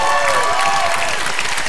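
A church congregation in Fort Smith, Arkansas applauds in dense, steady clapping that fills the room, with a faint sung or sustained tone fading underneath at the start.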